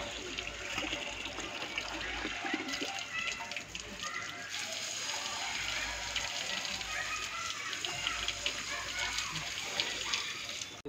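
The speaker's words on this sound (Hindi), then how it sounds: "पानी डालो" Water pours steadily for about eleven seconds while concrete is being cast for a homemade 500-litre filter tank, a continuous splashing wash with faint talk in the background.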